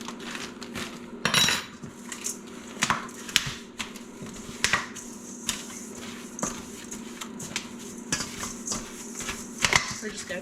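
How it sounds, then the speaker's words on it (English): A pastry cutter scrapes and clinks against a bowl while cutting a cinnamon and brown sugar crumb topping, with irregular metallic taps and chops spread throughout at close range. "We're just going to cut this with a pastry cutter, try to get it into a bit of a crumb going on."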